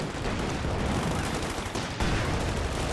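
Dense, continuous gunfire fills a Company of Heroes 2 battle, rapid overlapping shots and machine-gun bursts rattling without pause at a steady loud level.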